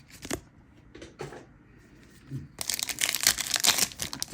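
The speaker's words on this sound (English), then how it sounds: "They made these packs super easy to open." A Magic: The Gathering Duskmourn booster pack is torn and crinkled open: a few sharp foil rips and rustles, then a longer, louder burst of crackling wrapper noise close to the microphone.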